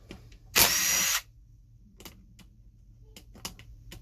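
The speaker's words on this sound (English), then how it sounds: "let's just get out these screws." A power driver zips out screws from a mini air compressor in one loud whirring burst of about half a second, followed by quiet clicks and small taps.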